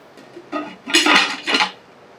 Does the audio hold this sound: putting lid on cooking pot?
yes